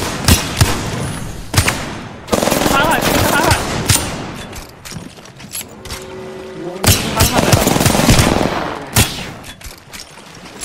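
Heavy gunfire from the Apex Legends video game rattles in long automatic bursts and single loud shots, broken by a few brief pauses, with a voice occasionally talking over the shooting.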